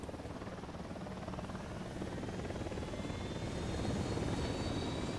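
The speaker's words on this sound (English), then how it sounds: "Helicopter incoming" A helicopter approaches in Ghost Recon Wildlands, its rotor thrum and engine drone steady at first and then growing gradually louder as it nears, with no talking.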